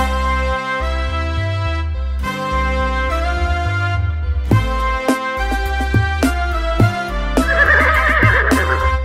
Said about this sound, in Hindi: दौड़ा दौड़ा घोड़ा दौड़ा, दुम उठा के दौड़ा